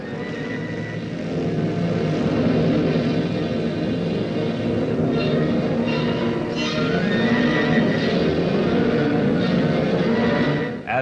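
A steady, loud drone of Short Sunderland flying boat engines runs throughout, with faint higher sounds flickering over the constant roar.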